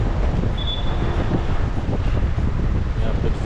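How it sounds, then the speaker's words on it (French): Strong wind buffets the microphone with a low, gusty rumble that runs throughout, over faint background noise, during an electric-bike ride through central Rabat. "Il y a un peu de vent qui souffle."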